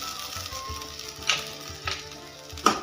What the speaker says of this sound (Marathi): ते पण छान फ्राय करणार आहे मी